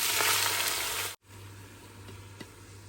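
Rice goes into hot oil in a pot with cardamom, cloves and cinnamon, giving a broad, close sizzle that cuts out abruptly and then returns as a quieter, steady crackle.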